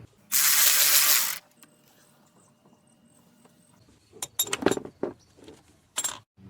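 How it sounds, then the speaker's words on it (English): Ratchet wrench working a 10mm bracket bolt on a Hyundai Tucson engine: a short burst of rasping, then a cluster of quick metallic clicks and a couple of final clicks, close by. "The 10mm bolt right now for this bracket, the hose, all of these hoses here."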